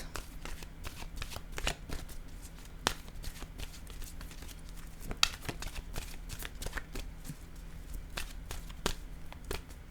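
Tarot cards being shuffled by hand, a steady run of crisp riffling slaps and soft flutters close by, with sharper card snaps scattered throughout and no talking.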